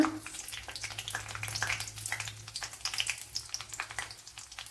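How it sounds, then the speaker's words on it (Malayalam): Mustard seeds and 3-4 dried red chilies frying in hot oil, giving a soft crackle of small pops and spits over a low hum, faint and fairly close, no one talking. "ഇതിലേക്ക് ഇനി വറ്റൽമുളക് ഇട്ട് കൊടുക്കുക, ഒരു 3-4 എണ്ണ."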